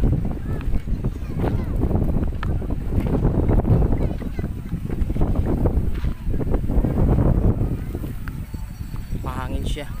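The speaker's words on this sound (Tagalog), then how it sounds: "Today is so windy." Strong wind buffets the microphone in a continuous low roar outdoors on a summer day, with steady gusting that swells and eases throughout.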